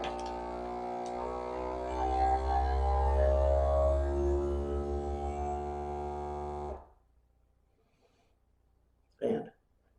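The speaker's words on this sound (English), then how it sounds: "now you can see it's sucking the air out of the bag" A vacuum sealer pulls air from a bag with a steady, buzzing motor hum for about seven seconds, then cuts off into near silence, followed by a single short click or thump.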